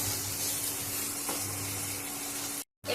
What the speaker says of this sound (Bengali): আলুগুলো একটু নাড়াচাড়া করে ভেজে নেব।